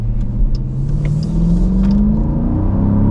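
A 2026 Dodge Durango engine rumbles loud and close, its low drone climbing steadily in pitch as it revs up, with no voices.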